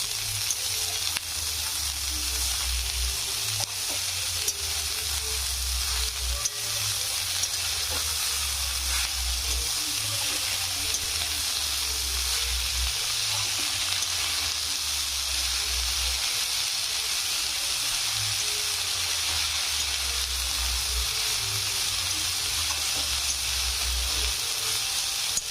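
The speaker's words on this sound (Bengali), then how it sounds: "শাকটা দিয়ে দিয়েছি। এবার আমি নেড়ে দেবো।" Korai shak greens frying in a pan in a Bengali home kitchen, a loud continuous sizzle and hiss with a low rumble from the gas flame underneath, steady throughout with no talking.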